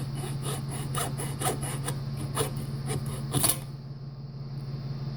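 A hacksaw cuts through battery cable clamped in a vise, giving a close, rhythmic back-and-forth rasp of about eight even strokes that stops just before the end.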